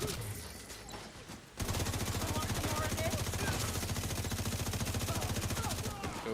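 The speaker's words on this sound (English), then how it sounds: "Yo, that turret won't stop shooting." An automated turret in The Division 2 fires in a rapid, unbroken machine-gun stream, loud and close, starting abruptly after a quieter stretch and running steadily to the end.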